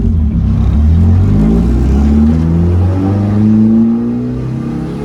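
A Nissan 240SX with an SR20 engine cruising along the Las Vegas Strip, its loud close engine drone rising and falling in pitch through gear changes and steady acceleration from inside the car.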